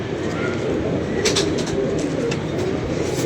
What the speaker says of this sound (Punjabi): ਇਹ ਮਾਸ਼ਾਅੱਲਾ ਮੇਰੇ ਜੇਠ ਵਾਲੇ ਕਬੂਤਰ ਨੇ ਵੀਰ ਜੀ